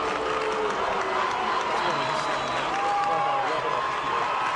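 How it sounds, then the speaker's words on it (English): A high school football crowd at Walton versus Lassiter murmurs and stirs steadily throughout, a broad continuous roar of voices with scattered claps and shouts in the stands, moderately loud with no single sharp peak. "And you can hear from the crowd, too."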